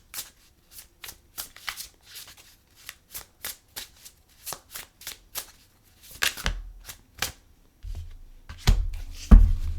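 A deck of cards is shuffled for a tarot-style reading, producing a rapid series of crisp riffling bursts close to the microphone, followed by a few heavier handling thumps and rustles.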